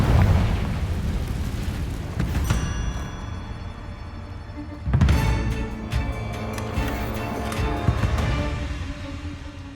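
Confringo fire spells explode in Hogwarts Legacy, giving loud booming blasts, one near 2.5 seconds and a bigger one near 5 seconds, with crackling debris and ongoing rumble between them, with no talking.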